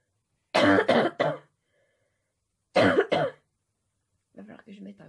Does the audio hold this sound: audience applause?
no